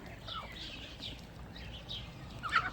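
Geese in a flock of about twenty give scattered honks and clucking calls outdoors, fairly faint and distant, with one louder squawk near the end.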